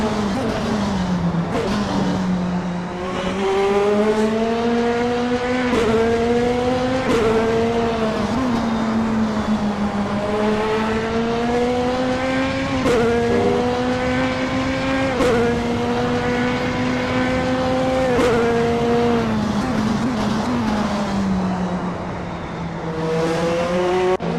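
A BMW M4 DTM race car pulls out of the pits, its engine climbing through several gear changes in a steady, loud drone that rises and drops with each upshift.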